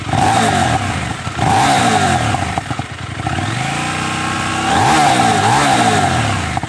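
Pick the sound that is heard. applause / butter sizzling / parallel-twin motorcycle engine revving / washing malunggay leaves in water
parallel-twin motorcycle engine revving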